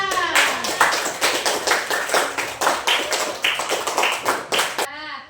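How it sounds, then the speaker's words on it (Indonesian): A classroom of students claps together in a quick, rapid patter of hands lasting about five seconds before stopping abruptly, close and fairly loud. "Dan tepuk tangan untuk Tasya."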